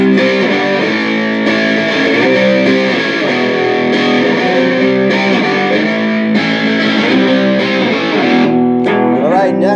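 Electric guitar through a Boss DS-1 distortion pedal playing a steady, saturated riff with sustained chords, loud and continuous, ending with a brief high scrape.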